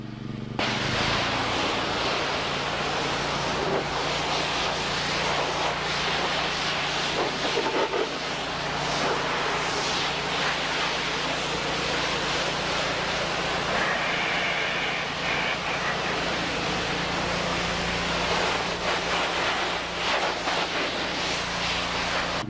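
Pressure washer spraying a steady stream of water to rinse a vehicle during detailing, a loud continuous hiss and wash of spray that runs unbroken, close by and with no talking.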